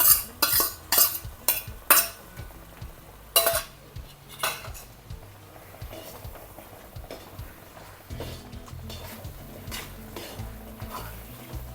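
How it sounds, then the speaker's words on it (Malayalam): Roasted coconut goes into a pan of halwa and is stirred with a metal utensil: loud, repeated clattering scrapes in quick bursts at first, then settling into steadier, quieter stirring close by. "ഇനി ഞാൻ ഇതിനകത്ത് നേരത്തെ വറുത്ത് കോരി വെച്ച തേങ്ങയില്ലേ അത് ഇതിനകത്തോട്ട് ഇട്ട് കൊടുക്കേ"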